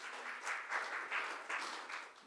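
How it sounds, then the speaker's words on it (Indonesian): A church congregation at a Sunday service claps together in praise, a brief, rhythmic wash of hand claps in a large room with no talk over it. "Kita tepuk tangan buat Allah kita"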